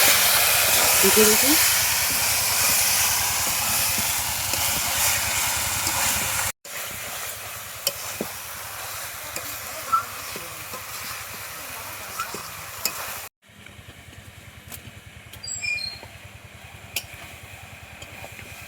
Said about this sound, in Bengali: এবার মাংসটা দিয়ে দেবো, ভালো করে কষাবো